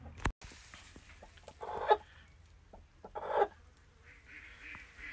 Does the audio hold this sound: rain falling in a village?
no